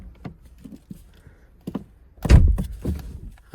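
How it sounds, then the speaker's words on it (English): Soft clicks and fumbling lead to a solid thunk as the door of a Mercedes CLK W208 opens, followed by a brief rustle, all close by. "now what I'm gonna do is I'm gonna open the door"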